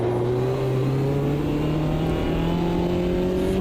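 Race car engine in Automobilista 2 at Mansfield under hard braking, a steady loud mid-pitched drone with engine-braking overrun whose tones shift slightly as the car slows, continuous and close with no talking.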